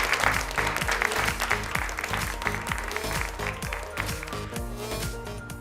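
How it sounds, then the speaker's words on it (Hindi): Audience applause fills a textile fair hall, a dense steady clatter of clapping hands under a loud thumping music beat, holding at full strength throughout. "जोरदार तालियां हो जाए लेडीज एंड जेंटलमैन।"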